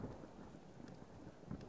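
A thunderstorm moves in within the survival video game Subsistence, with low rolling thunder and steady rain heard faintly and alone.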